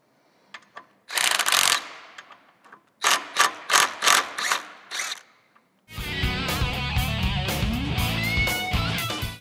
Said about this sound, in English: run a thread chaser through all the holes on this side and all the holes on that side